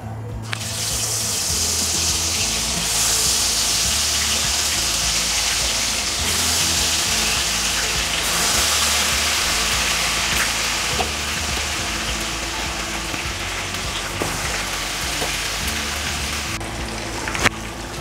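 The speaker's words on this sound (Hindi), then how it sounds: "तो अब मैं इसमें मटन डालती जाऊँगी और फ्राई कर लूँगी" Marinated mutton pieces fry in hot oil over a medium-low flame, giving a steady, dense sizzle that stays loud and continuous throughout, with an occasional small clink near the end.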